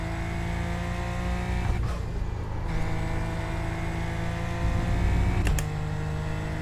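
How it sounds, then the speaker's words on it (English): A steady, droning car engine hum from a racing video game, with a brief dip and a sharp burst of noise partway through, continuous and fairly loud. "can you hear the car though?"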